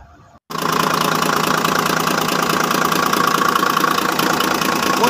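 A diesel engine fires up after a brief pause and settles into a steady, loud idle with a constant knocking rumble, just after its injection timing plate was replaced.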